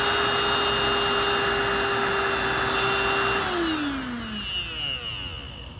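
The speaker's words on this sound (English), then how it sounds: "I'm just going to check if the motor runs before closing it" A vintage 1948 Spray Master air compressor motor runs with a steady, loud hum that holds even for about three seconds, then winds down with a falling pitch as it is switched off.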